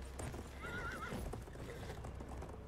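Horses in the Battlefield 1 video game whinny over a dense, rumbling clatter of hooves and battle noise, with one clear rising-and-falling neigh standing out in the middle.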